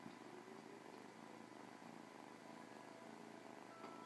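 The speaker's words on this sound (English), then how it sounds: "You sound like a little engine when you purr." A cat purrs steadily and continuously up close, a soft rumbling drone with no pauses and no other sounds.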